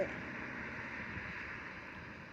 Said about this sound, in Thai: โอ้ยลมพัดเย็นนะ